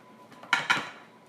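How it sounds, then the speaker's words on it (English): A utensil cuts through a baked blueberry French toast casserole in a dish, giving two quick soft scraping clinks against the pan, close and fairly quiet. "you can just cut it into squares"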